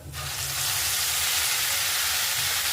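A paste of green chili, dried red chili, onion, coriander, mint and turmeric hits hot oil in a pan and bursts into a loud, steady sizzle that continues without talk.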